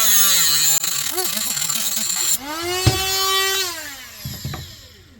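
High-pitched power tool whine cutting through a BMW turbo coolant return hose, loud and close, pitch dipping and rising with load, then winding down with a few faint knocks at the end.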